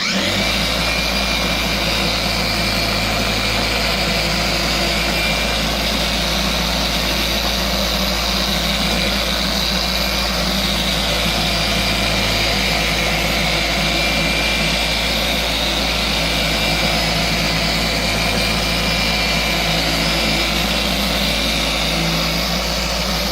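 A car paint polisher runs at speed setting 4 on a test spot. It makes a loud, unbroken whirring roar that stays constant for the whole stretch.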